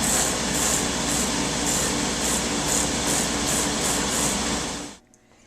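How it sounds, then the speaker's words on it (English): Thin wood lamination strips for a scroll saw bowl are hand-sanded with light back-and-forth strokes, giving a continuous close, loud scratchy hiss with rhythmic pulses about twice a second, ending abruptly. "using a very light stroke back and forth so I don't sand off too much wood"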